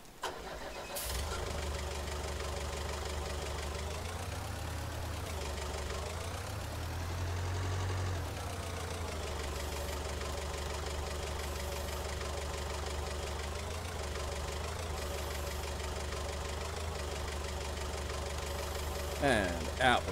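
A forklift engine in Farming Simulator 19 runs steadily at a medium idle, revving briefly near the middle, alongside a Ram 3500 farm truck. It stays continuous throughout, with a few clunks near the end.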